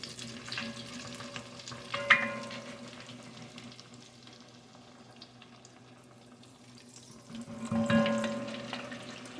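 Apple fritters frying in hot grease with a steady low sizzle throughout, broken by two louder clattering bursts of kitchen handling around the turn, no talking.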